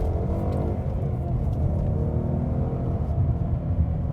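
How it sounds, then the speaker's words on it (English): A 2015 Ford Mustang GT with the Performance Pack gives off a steady, loud V8 exhaust rumble while driving, a deep continuous drone with slight rev swells and no talking. "That exhaust note, it's perfect."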